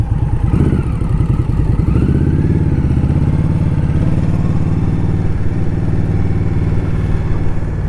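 A 2018 Indian Scout Bobber ABS motorcycle rumbles loudly while being ridden, its V-twin engine holding a steady throaty drone with a brief rise in revs early on, wind noise blended in, no talking.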